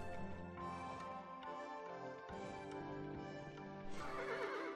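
A horse in the video game Kingdom: New Lands, with a whinny and clip-clopping hooves over a steady layer of game music, loudest near the end.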